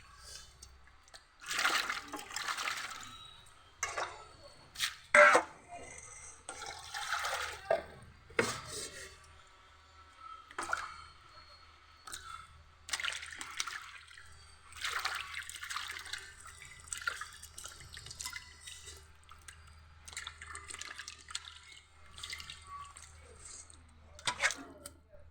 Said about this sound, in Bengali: ভালো করে ধুয়ে নিলাম মাছটাকে।